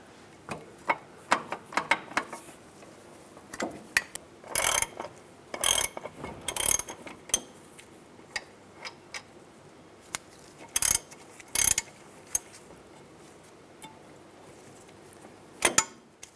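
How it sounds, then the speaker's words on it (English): An 18mm socket on a ratchet loosens the caliper bracket bolts on the front brake of a 2002-2005 Chevrolet Trailblazer. Bursts of quick metallic clicking alternate with pauses and a few louder clanks, close and alone. "Now I'm going to take these two bolts out for the caliper bracket."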